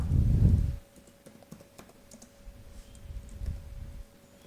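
Typing on a computer keyboard while entering names into an Excel spreadsheet, a quiet run of scattered clicky keystrokes after a brief low thump at the start, no voices.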